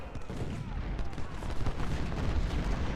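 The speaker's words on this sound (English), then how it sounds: "There goes that artillery." Artillery fire in the Civil War video game Ultimate General, set at Culp's Hill in the Battle of Gettysburg, as a dense, continuous rumble of booming cannon shots rolling together for a few seconds.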